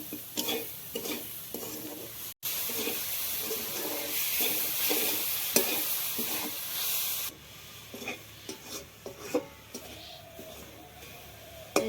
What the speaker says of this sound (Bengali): নারকেলটা ভাজা হয়ে গেছে বন্ধুরা আমি নামিয়ে নিচ্ছি